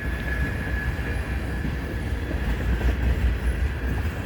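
A CN freight train hauled by back-to-back SD70M-2 locomotives passing on a chilly day near a dog park, a continuous loud rumble of rolling cars with a faint steady whine, close and unbroken.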